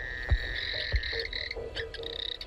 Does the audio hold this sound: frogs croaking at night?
yes